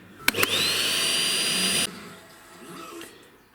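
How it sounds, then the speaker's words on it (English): A Hoover vacuum cleaner runs loud and close with a high whine after a couple of clunks at switch-on, then cuts off abruptly, followed by quieter handling noises. "Hoover I've got sucks, but this is about as good as I'm gonna bother getting it."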